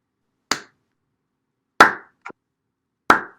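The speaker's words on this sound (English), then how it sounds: "you hear a slow clap and kind of a chuckle" Three slow, isolated hand claps spaced over a second apart, sharp and close in otherwise dead silence, with a small soft sound between the second and third.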